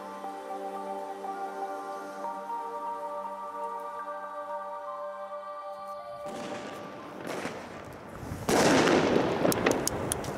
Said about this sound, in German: keine wirkliche Knallkette, sondern eher zwei Stränge mit Cracklingkugeln und farbigen Sternen